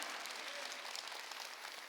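A church congregation at a Wednesday service claps together. The applause comes as a soft, even patter with no voices over it.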